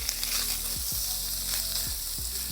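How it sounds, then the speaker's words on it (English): Sausage sizzles in a lightly smoking hot pan on a camp stove during off-grid truck camping, a loud, close, continuous hiss with a low stove hum beneath and a couple of short scraping sweeps. "once this starts to lightly smoke, I know it's ready to go to put the sausage on."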